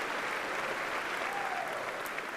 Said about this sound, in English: graduates, give yourselves a warm and much-deserved Golden Flash round of applause